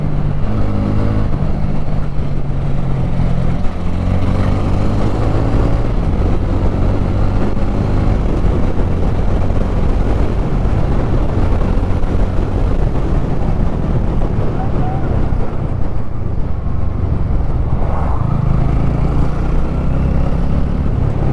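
A TVS Ronin 225 motorcycle engine pulls hard in first gear on a performance test ride, a loud, steady drone buried under constant heavy wind rush for the whole stretch.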